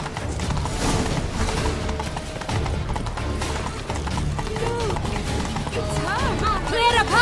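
Horse hooves clip-clop steadily along a road in The Witcher 3, sustained under game music and other ambience, with speech over the top.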